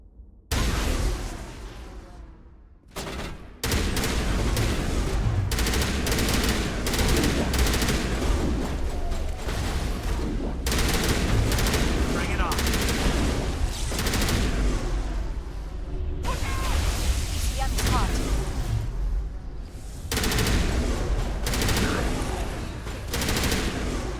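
Shotgun and assault rifle fire in Mass Effect: loud, nearly continuous gunfire with rapid automatic bursts mixed with heavier single blasts, a brief lull early on, then sustained combat without speech.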